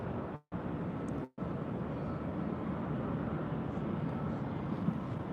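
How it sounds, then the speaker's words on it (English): An old America West Airbus A319 flown by American Airlines, arriving from Vancouver at LAX, passes as a steady broadband jet roar with a wide rushing hiss, interrupted by two brief dropouts. "That was American Airlines Flight 1717 coming from Vancouver on that old America West A319."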